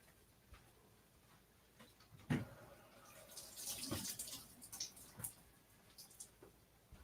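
A kitchen tap runs water to rinse off a dropped piece of fresh ginger, a soft broadband splashing rush that swells in the middle and tapers off, with a few clatters in a quiet kitchen.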